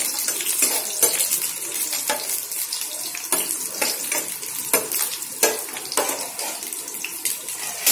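Chopped onion sautéing lightly in a hot pan while making khoya roti, a steady crackling sizzle broken by repeated scraping stirs, close and fairly loud, with no talking.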